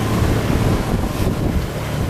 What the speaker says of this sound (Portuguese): Entrou no sudoeste, dá uma ventania aqui.